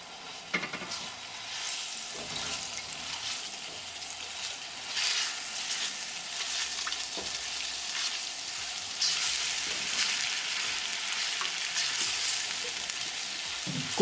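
Ginger, garlic and green chili paste fry in hot olive oil for a fish biryani tadka, a steady crackling sizzle with occasional scraping stirs throughout.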